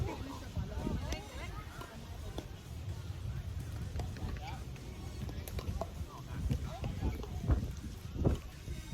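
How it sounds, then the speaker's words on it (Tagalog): Steady wind buffets the microphone throughout, a continuous rushing roar with occasional louder gusts and faint background noise. "Alam nilang mahangin ngayon eh."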